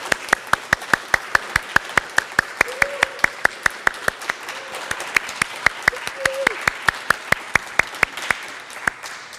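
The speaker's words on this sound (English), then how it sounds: "one more round of applause for our 10 new PCLT students" Applause at a medical lectureship and induction ceremony for primary care leadership track students: close, crisp clapping in an even, steady rhythm lasting several seconds.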